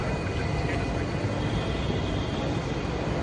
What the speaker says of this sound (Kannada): ನಾವು ಹತ್ತಿದ್ದೀವಿ ಮೆಟ್ರೋ.